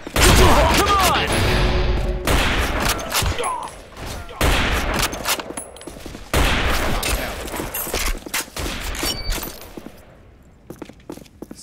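A gun firing in the shooter game Arctic Combat: loud, close bursts of shots with sharp cracks and booms, broken by short pauses and thinning out toward the end.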